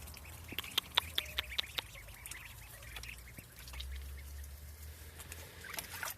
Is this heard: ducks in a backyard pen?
yes